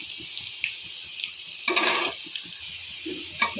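Raw green banana slices fry in a pan with pepper paste, a soft steady hiss broken by stirring scrapes and a brief louder sizzle burst.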